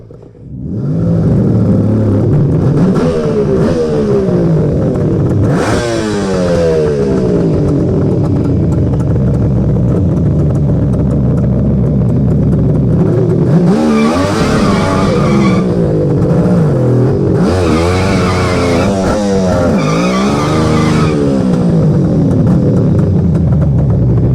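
A Suzuki GT550 two-stroke triple motorcycle revs hard while smoking its rear tire, loud close engine howls rising and falling repeatedly with screeching tire squeal over about twenty-four seconds.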